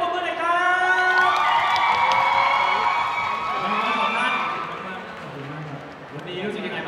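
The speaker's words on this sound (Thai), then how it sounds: "ขอเสียงปรบมือหน่อยครับ" A fan meeting audience for a Thai idol duo cheers and applauds loudly, a dense crowd roar with shouts and whoops sustained throughout, easing slightly toward the end.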